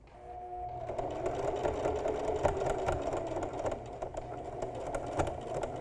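A sewing machine stitches slowly through several thicknesses of a shirt shoulder seam, a steady close motor hum with rapid needle ticks running continuously after it starts up.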